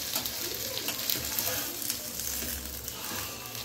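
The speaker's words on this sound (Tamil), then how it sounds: "இந்த மாதிரி நம்ம ஃப்ரை பண்ணிடுவோம்." Kerala-style fish frying in a pan, a steady crackling sizzle of hot oil running throughout at close range, with faint voices in the background.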